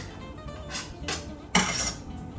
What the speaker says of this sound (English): So now we're putting the clams back in.